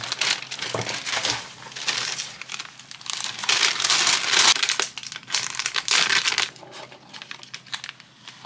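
Gift wrapping paper with a nacho theme is torn and crinkled open, a close, busy stretch of crackling, rustling and crushing that rises and falls for several seconds.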